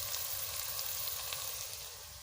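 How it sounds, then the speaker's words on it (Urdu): Bitter gourd (karela) fries in a pan with a steady, even sizzle, close and continuous, with no voices over it. "کریلے کو اچھی طریقے کے ساتھ بھونیں گے."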